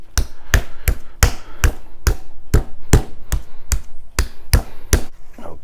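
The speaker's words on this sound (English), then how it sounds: "I'm gonna pound this, lay a little bit flatter so when smoke goes over," Raw brisket pounded flat for an offset smoker, heard as a steady series of about fourteen loud, sharp thumps at a regular rhythm, close by with no talking.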